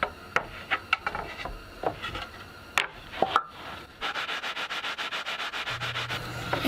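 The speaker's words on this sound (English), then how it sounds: "I've got a really simple sanding jig that allows me to joint the edges manually using sandpaper and a flat" Sandpaper on a flat sanding beam rasps back and forth along wooden guitar body edges by hand, irregular strokes at first, then a fast steady run of close scratchy passes.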